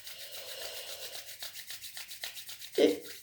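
Fingers rubbing firmly over facial skin in a self-massage on the head and face, a close, soft, rhythmic swishing in repeated strokes, quiet and alone.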